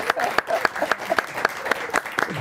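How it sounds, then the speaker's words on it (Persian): A studio audience on a talk show claps in a loose, uneven rhythm, with sharp individual claps standing out close by over a softer spread of hands and faint murmuring. "تشویق کنیم واقعا"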